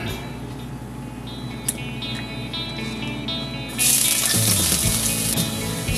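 Garlic sautéing in a pan of hot oil gives a soft background hiss that jumps to a loud, bright sizzle midway as the garlic hits the oil, then keeps crackling steadily.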